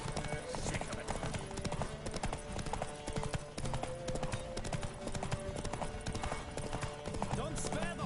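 Rapid galloping horse hoofbeats in The Witcher 3: Wild Hunt pound steadily and loudly, with a driving rhythm and a voice speaking over the clatter.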